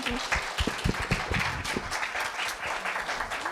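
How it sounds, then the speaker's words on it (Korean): Audience applause for two middle-school students at a speaking festival, a steady wash of many hands clapping in a hall, continuous and fairly loud throughout. "두 학생에게 큰 박수 다시 한번 부탁드립니다"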